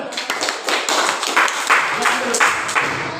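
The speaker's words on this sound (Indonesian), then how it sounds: "Oke, tepuk tangan dulu." A group of children clapping their hands in a classroom setting, a series of sharp, fairly close claps in an uneven rhythm with voices mixed in.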